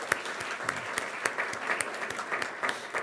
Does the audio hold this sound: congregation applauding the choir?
yes